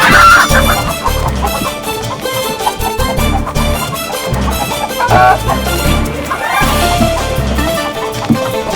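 A chicken squawks and clucks loudly while being chased, its frantic cries mixed with shouting, scuffling and background music in a busy scene.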